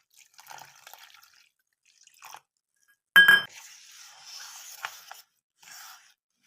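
Warm water poured from a measuring bowl into a bowl of semolina rice for a rice flour batter, heard as soft splashing and dribbling with a brief clink of the bowl, close and quiet.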